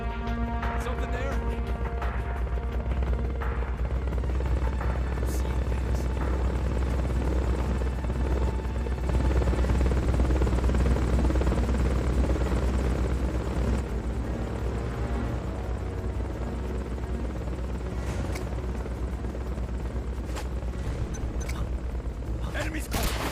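A recovery helicopter from the video game Metal Gear Solid: Peace Walker keeps up a steady low rotor drone and engine roar throughout, with game voices and effects heard over it.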